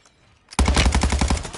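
Sniper and automatic gunfire in Call of Duty Warzone bursts in suddenly after a near-silent moment, a loud rapid string of shots with a booming low end.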